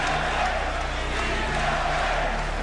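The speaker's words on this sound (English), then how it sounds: "From the Boston crowd comes a ceaseless pounding chant." Boston Garden crowd roaring in a steady, ceaseless chant during a basketball game against the 76ers, a dense continuous wash of crowd noise with a low rhythmic pounding underneath, heard from within the arena.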